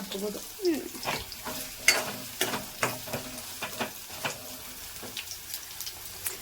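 Grated coconut frying in a pan for village-style avarekalu sambar, a light crackling sizzle broken by repeated spatula scrapes and taps in an uneven rhythm, close by, no talking.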